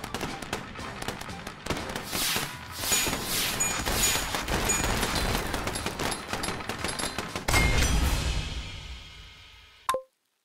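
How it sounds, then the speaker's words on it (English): A barrage of rockets fired by an enemy tank in the video game Wee Tanks, rapid overlapping bursts and pops crackling continuously and loudly for several seconds before cutting off abruptly. "Look how many rockets this guy shoots."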